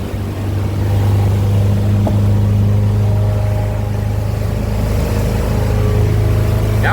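The engine of a 31ft Wellcraft two-bedroom mini yacht drones loud and steady as it throttles up, a deep continuous roar with no voices over it.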